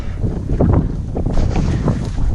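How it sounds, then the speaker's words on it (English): Strong gusting wind from an incoming cold front on a granite mountain in the Wichita Mountains, a loud, rough roar buffeting the microphone throughout the short stretch. "That cold front's rushing in pretty fast, so wind speeds are about to double."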